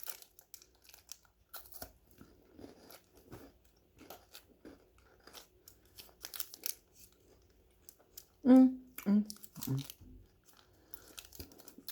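Crunchy chewing of a Coffee Crisp Salted Caramel chocolate bar, close to the mic, with soft bites and crinkles and a few louder crunches toward the end, quiet overall.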